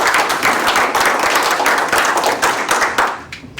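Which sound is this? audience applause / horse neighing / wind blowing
audience applause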